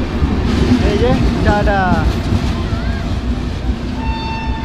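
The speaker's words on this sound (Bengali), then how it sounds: "12883 রূপসী বাংলা এখন পুরুলিয়ার উদ্দেশ্যে বেরিয়ে যাচ্ছে বাঁকুড়া স্টেশন থেকে।" The 12883 Rupasi Bangla Express pulls out of Bankura station bound for Purulia, a loud, low rumble of rolling wheels carrying on under someone speaking, with whistle-like tones in the background.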